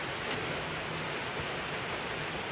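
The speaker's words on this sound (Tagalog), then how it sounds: "Grabe ang ulan, nato karon guys" Heavy typhoon rain from Typhoon Basyang pours down in a steady, dense broadband roar, unbroken and fairly loud, with no voices.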